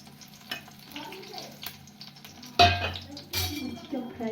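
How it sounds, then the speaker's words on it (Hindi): Whole chilies fry in hot oil in a pan. A moderate sizzle runs under clinks of metal utensils, with a sudden louder burst of spitting partway through. "यहाँ पे तेल हो चुका है गरम, तो इसमें रख देती हूँ मैं मिर्ची, फट भी सकती है यहाँ।"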